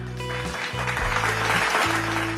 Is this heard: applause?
yes